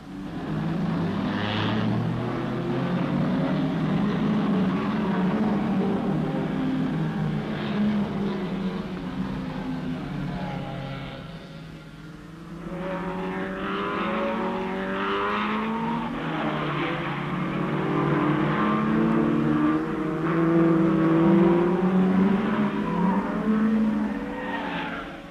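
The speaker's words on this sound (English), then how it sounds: "The GTO Ferraris of Tavano and Bianchi alongside Trent's Cobra." Ferrari GTO and Cobra race cars at the 1964 Tour de France Automobile, engines roaring continuously at high revs with rising and falling pitch as they pass, fading briefly midway before building again.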